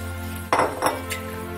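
A utensil knocks twice against a pan of béchamel sauce made with milk, two sharp clinks over a steady low hum from the stove, then a faint tap.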